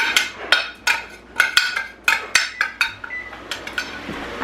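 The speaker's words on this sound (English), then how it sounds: "I'll go ahead and put in my sauteed onion and celery." Sauteed onion and celery being added to Thanksgiving stuffing with broth make a series of sharp metal spoon clinks and scrapes against a bowl, close and rhythmic, with a few soft wet thuds.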